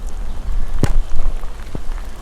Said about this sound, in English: I have to stop soon as the rain is getting stronger and stronger again